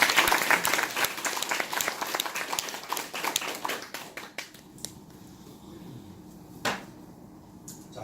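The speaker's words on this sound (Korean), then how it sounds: "박수 한번 치겠습니다" Audience applause at a Korean lecture, a dense burst of many hands clapping that thins out and fades midway, leaving a few scattered claps and light room noise.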